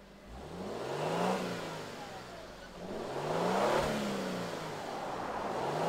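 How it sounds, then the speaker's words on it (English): A 2022 Lexus LX 600 F Sport's twin-turbo V6 starting up and revving, with two rising-and-falling engine swells over about six seconds, fairly faint and heard with no talking. "let's fire up this V6 twin turbo and hear what it sounds like"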